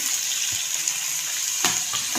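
Potato pieces, a kilo of them, sizzling in oil in a karahi, a steady hiss of frying with light stirring clatter and a brief louder burst near the end, close and alone.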